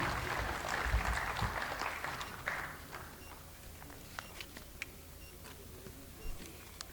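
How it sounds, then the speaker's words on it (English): A conference audience at AHPCON 2022, IGMC Shimla, applauds, a moderate clapping that fades after a few seconds into scattered single claps and faint shuffling. "So big round of applause for Mr. Gurvinder Singh Vadhavan"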